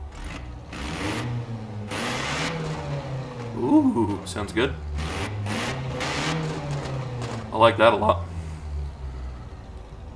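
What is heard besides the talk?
car engine revving in video game Forza Horizon 4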